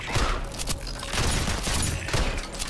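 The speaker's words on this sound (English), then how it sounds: "Pop a nade in there." A grenade goes off in a first-person shooter game amid a dense, continuous barrage of gunfire and booming blasts, loud and chaotic from start to finish.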